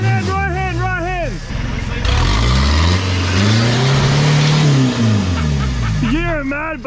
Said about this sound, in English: It's where I'm just gassing it from the bottom, it just hits the belly.